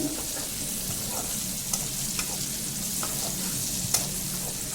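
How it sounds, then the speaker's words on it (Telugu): Turmeric frying in a pan, a steady close sizzle with occasional stirring clicks and scrapes running through the whole stretch. "మొత్తం ఫ్రై అయినాక కొంచెం పసుపు వేసి మళ్ళీ కొంచెం పచ్చి వాసన పోయేంత వరకు పసుపుని ఫ్రై చేసుకోవాలి"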